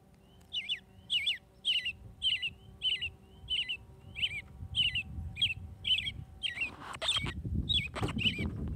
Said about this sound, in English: It's a robin. Robins make that sound.